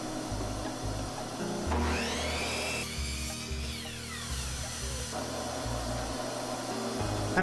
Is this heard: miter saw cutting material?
yes